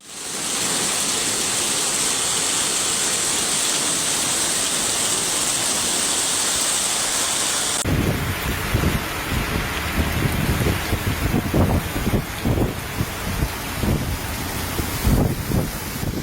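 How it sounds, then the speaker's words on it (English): A rain and hail storm with wind in Ancona, Italy: dense steady rain hisses loudly with a high wash, then heavier drumming impacts and gusty rumbles take over, continuous and close throughout. "Ancona was also hit by wind, rain and hail."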